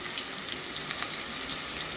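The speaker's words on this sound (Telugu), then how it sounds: "ఇప్పుడు ఆనియన్స్ మంచిగా ఫ్రై అయినాయి" Onions sizzle steadily in a pan while a spicy goat-head curry is cooked, a constant close hiss with no talking.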